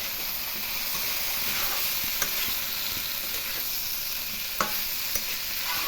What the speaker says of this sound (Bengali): তারপর ভেজে রাখা কাঁঠাল আর আলুটা দিয়ে দেবো তার মধ্যে